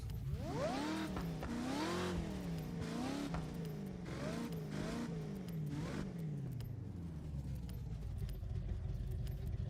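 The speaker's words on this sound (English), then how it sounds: "Actually not too sure I like the sound of that supercharger in there." Supercharged car engine in Forza Horizon 6 revving repeatedly, pitch sweeping up and down in several loud bursts over a steady drone, then settling to a lower idle hum near the end.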